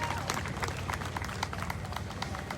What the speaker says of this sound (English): let's give a round of applause to MIRAC for being out here